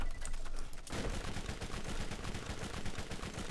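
Submachine gun fire in the video game Borderlands rattles in rapid bursts, a dense, loud stream of shots with a brief break before the firing resumes steadily.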